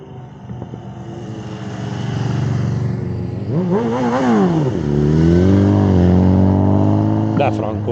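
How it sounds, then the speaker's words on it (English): A BMW 1000RR superbike passes on the Stelvio Pass, Bormio side, its engine swelling in pitch as it approaches and then holding a loud, steady roar close by. Other traffic sounds faintly in the background. "It was a BMW 1000RR, a monster superbike."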